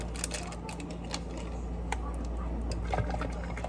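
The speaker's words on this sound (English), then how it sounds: "And I like to use hot water for my powder mixes." Hot water poured into a glass of Herbalife tea powder mix flavoured with strawberry and watermelon, a steady close liquid pour with faint clinks and splashes over a continuous low hum.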